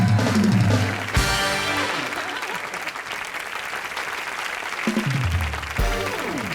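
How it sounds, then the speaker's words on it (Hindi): A studio audience on a Hindi comedy show applauds loudly for actor Shatrughan Sinha, a dense, sustained clatter of clapping with brief voices cutting in at the start and near the end. "शत्रु जी के लिए जोरदार ताली"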